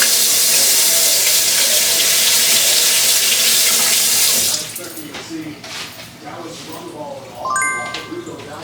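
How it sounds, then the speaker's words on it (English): Hands are washed under a running kitchen tap, a loud steady gush of water for several seconds that then cuts off, followed by quieter dripping, rubbing and small clinks nearby. "let me wash my hands"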